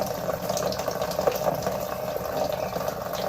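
A semi-automatic LG washing machine fills with water from its inlet, a steady, close rush and gurgle of flowing water that continues evenly without speech.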